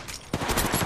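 Rapid automatic gunfire from Apex Legends Mobile, a loud, dense burst of shots that starts abruptly after a brief quieter lead-in and continues steadily to the end.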